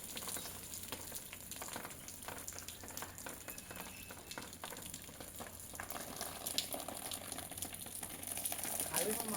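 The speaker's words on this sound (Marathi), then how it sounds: "तर ते खाली पाईप घेऊन वरती पाणी मारतो आहे." Water sprayed upward from a hose pipe patters and hisses across a newly built village temple roof, a continuous fizzing spray that swells slightly toward the end, heard from a distance at low level.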